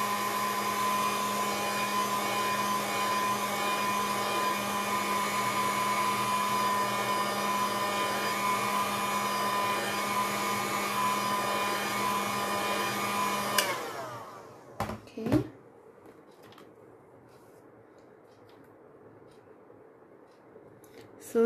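A hair dryer blows steadily on a decoupage craft piece, whining loud and close for about fourteen seconds before switching off, followed by a few clicks and quiet handling sounds.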